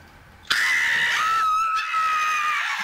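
A single loud, sustained scream breaks in suddenly after a moment of quiet and holds steady for over two seconds, with no talking, at the close of a British sitcom episode.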